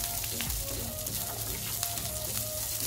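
Garlic and peanuts roasting in hot oil in a pan for a chutney, giving a continuous soft sizzle and crackle with small popping bursts, close and fairly quiet, steady throughout.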